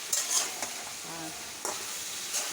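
Fish head curry with potato, eggplant, garlic, onion, chili and spices being stirred in hot oil, a steady close sizzle with a few scraping stirs of the spoon against the pan.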